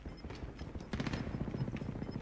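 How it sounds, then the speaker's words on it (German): Gunfire in the Call of Duty Warzone video game, a dense run of rapid shots that grows louder and busier partway through, heard within mixed game sound. "Bei dir sind die Schüsse näher?"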